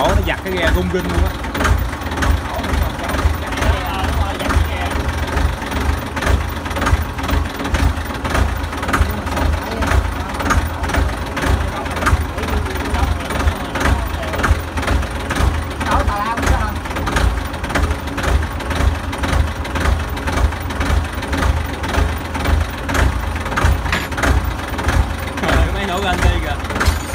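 A boat's engine runs steadily throughout, a loud continuous low rumble with rhythmic knocking pulses as it shakes the hull, with voices talking over it at times.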